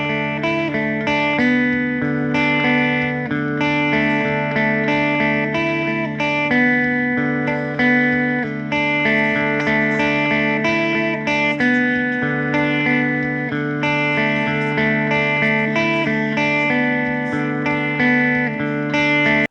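Electric guitar with effects and reverb playing a country riff, a continuous picked pattern of bright notes over sustained low tones, loud and alone.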